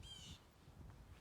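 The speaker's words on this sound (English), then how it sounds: "That bird crazy." An outdoor bird, likely a crow, gives a brief harsh cawing call at the start, fairly faint and distant against low background rumble.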